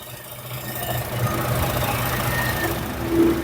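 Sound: car engine idling under open hood

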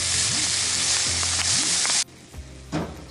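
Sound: liver frying in a pan

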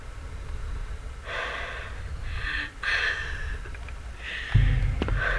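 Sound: creature breathing in video game SCP: Containment Breach

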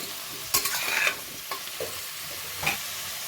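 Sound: stirring grated carrots cooking in ghee for halwa

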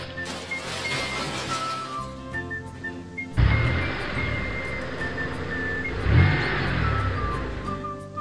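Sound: cartoon toy cars driving along the road

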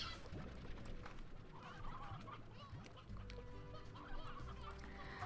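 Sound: chickens clucking in the video game

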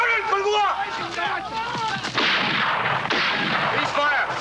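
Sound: artillery and gunfire in the film Inchon

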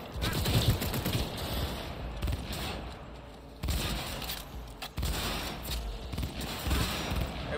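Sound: gunfire in the video game Cyberpunk 2077

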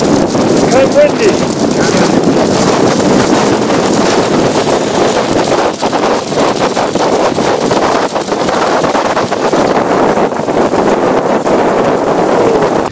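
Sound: wind

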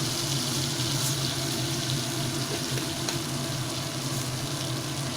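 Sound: cumin seeds sizzling in melted butter

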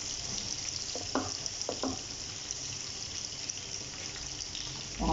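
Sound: white vinegar being poured into the pan

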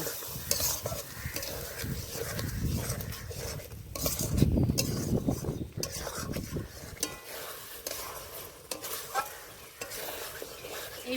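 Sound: spices and meat being stir-fried in a pan for ghugni

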